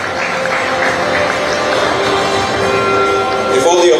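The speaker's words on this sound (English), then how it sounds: "Let's keep that round of applause going." Audience applause at a football award ceremony keeps going in a large hall, a mid-level wash of clapping with a voice speaking over it and some music-like tones toward the end.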